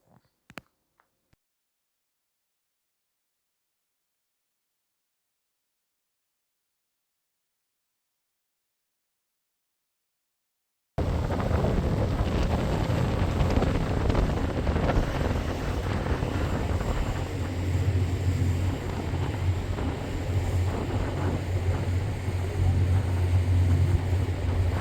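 Wind near water on a warm day, near silence with a few faint knocks, then a sudden loud, steady roar of wind buffeting the microphone that continues without a break.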